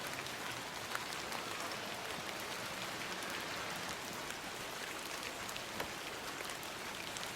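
Rain falls steadily in the video game The Excavation of Hob's Barrow, a dense, even hiss of drops patters on a surface with no pause or swell.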